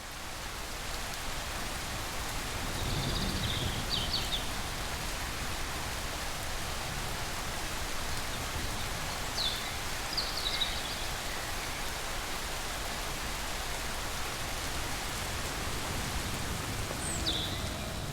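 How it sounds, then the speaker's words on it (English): Rain falls steadily in a constant soft hiss that stays even and fairly faint throughout, with a few faint bird chirps breaking through now and then. "the rain is a blessing."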